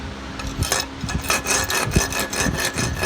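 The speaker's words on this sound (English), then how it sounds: "And now you can file here." A hand file is drawn across metal clamped in a vertical filing vise at a blacksmith's bench, giving rhythmic rasping strokes about twice a second, close and fairly loud, with no talk.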